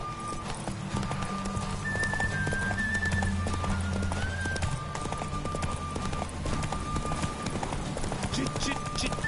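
Rhythmic hoofbeats of a galloping horse in a video game with a whinny, set against busy game music and effects, loud and continuous with voices talking over it.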